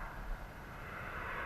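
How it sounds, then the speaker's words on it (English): A fixed-wing airplane passes high over the Truckee River during a fishing trip, a steady, distant engine drone that holds throughout without any talk. "If they're underneath the airplanes, then you got to fish underneath the airplanes."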